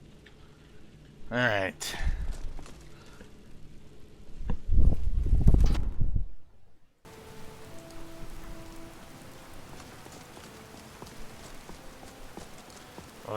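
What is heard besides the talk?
rain in the video game Skyrim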